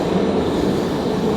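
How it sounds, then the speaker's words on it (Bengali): A metro train in Azerbaijan runs along the track with a steady, dense rumble and rattle heard from inside, loud and continuous over a short span. "মেট্রোতে আমরা 3-4 স্টেশন ফালাইয়ে চলে আসলাম ঘোরার জন্য"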